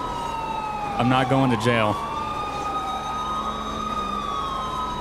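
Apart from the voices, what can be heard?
police sirens in a video game (GTA roleplay)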